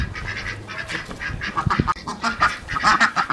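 Ducks quack and honk loudly and close by in a series of rapid, overlapping calls. The bursts come thick and fast throughout.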